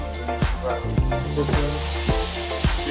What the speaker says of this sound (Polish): Robimy teraz smażenie szczypaków